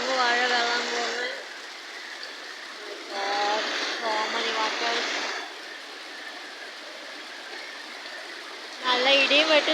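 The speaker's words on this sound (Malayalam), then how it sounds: "പതിവിനെക്കാട്ടിലും നല്ല മഴയാണ് ഗൈസ്" Heavy rain falls during an outdoor fishing outing, a steady close wash of hiss running through the whole stretch while a voice talks over it in several bursts.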